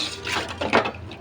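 Water splashes into a cooking pot holding raw mango and ground small dried fish, a short close pour of about a second that swells briefly near the end.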